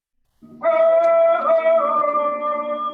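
Voices rise together in a sustained, droning chant of the ceremonial Thunderbird song after a moment of silence, holding long tones in unison, close and fairly loud.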